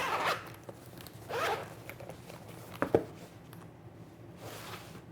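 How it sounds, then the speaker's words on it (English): The zipper of a leather hardback Bose 700 headphone case is pulled around the case in several short, close rasping strokes. A couple of soft clicks come in between the pulls in an otherwise quiet room. "zip all the way around."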